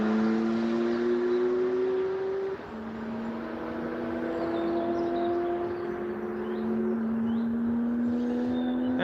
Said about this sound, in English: when cars pass, I can't really talk, it gets too loud,